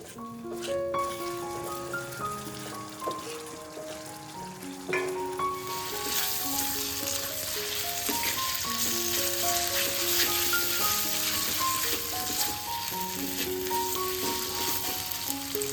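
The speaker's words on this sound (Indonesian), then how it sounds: "Kita tumis sampai bumbunya matang dan tanak ya." Galangal, bay leaves and lime leaves stir-frying in a pan, a sizzle that swells and stays bright and steady, heard under a continuous melodic tune with occasional stirring taps.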